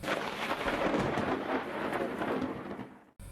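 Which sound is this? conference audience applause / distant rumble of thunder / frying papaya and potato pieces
distant rumble of thunder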